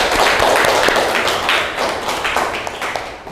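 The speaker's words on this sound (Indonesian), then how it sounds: "Tepuk tangan anak-anak." A class of children claps together in a classroom, a dense, loud burst of rapid, uneven hand claps that holds steady for a few seconds before thinning slightly, with no talking over it.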